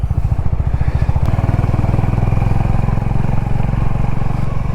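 Motorcycle engine rumbling steadily with a low, even pulse as it climbs a winding mountain road between Siliguri and Gangtok in cold weather, loud and close throughout with wind noise.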